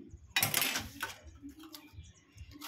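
Scissors cutting blouse cloth, a short burst of crisp snipping and rustling fabric near and close, followed by faint ticking clicks and handling noises.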